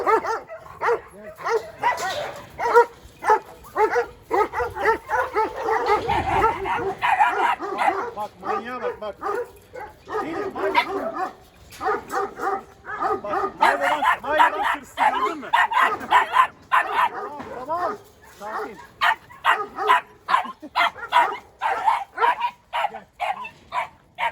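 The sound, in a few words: Kangal dog barking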